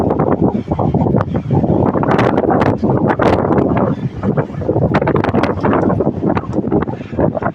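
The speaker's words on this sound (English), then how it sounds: "this wind about ready to blow the tripod over" Strong outdoor wind buffets a microphone on a tripod, producing loud, gusty rumbling bursts and rustling that rise and fall irregularly throughout.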